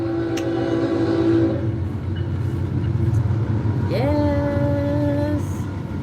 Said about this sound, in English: I swear to you, a train just went by here.